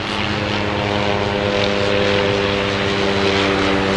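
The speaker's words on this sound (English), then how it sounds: "There's a copter." An aircraft roars steadily overhead through the whole stretch, a loud, even engine and rotor drone in a street setting, with no talk over it.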